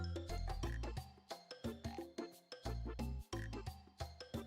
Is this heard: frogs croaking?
yes